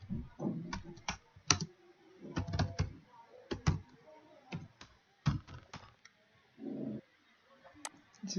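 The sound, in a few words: typing code on a computer keyboard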